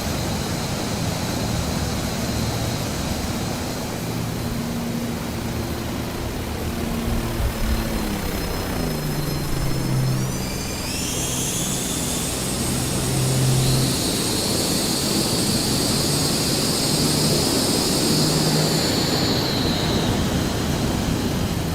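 An F-16 or F-18 fighter jet approaches and passes overhead, a broad rising roar with whining tones that swells from about ten seconds and stays loud and steady to the end, heard outdoors with no talk.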